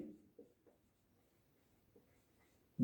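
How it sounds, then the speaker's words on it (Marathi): A pen writing in blue ink makes faint, quiet scratches and taps in a few short strokes, close by, with near silence between them and a sharper knock at the end. "मी इथं ब्लू इंक मध्ये लिहितो"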